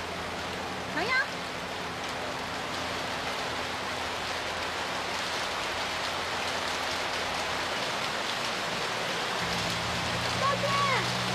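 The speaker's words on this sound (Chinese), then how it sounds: "下雨了，我们躲躲雨吧。" Steady rain falling outdoors, an even, dense hiss that continues unchanged for the whole stretch, with a faint low hum underneath.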